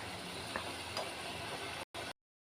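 Patishapta pitha fries in a pan, giving a steady, close, continuous sizzle with a couple of faint clicks before it cuts off abruptly.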